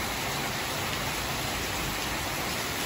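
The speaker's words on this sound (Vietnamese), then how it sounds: "hôm nay mưa như trút đấy" Heavy summer rain pours down in Vietnam after a long heat wave, a dense, constant, close roar of water with no breaks and no voices.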